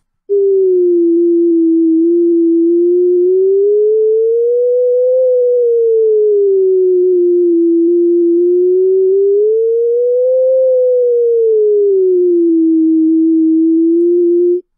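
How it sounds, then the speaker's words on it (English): A pure electronic tone from EMG biofeedback software glides slowly up and down in pitch, tracking muscle tension in two smooth waves; loud, steady and alone, with no talking. "you'll hear a tone that rises and falls with pitch in sync with the signal"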